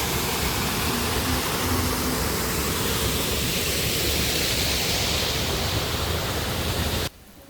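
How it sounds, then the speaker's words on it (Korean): A small waterfall in a paid garden in Fukuoka, Japan, gives a steady, even rush of falling water that fills the whole clip at close range and then cuts off abruptly near the end. "작은 정원이지만 시원한 폭포까지 있었어요."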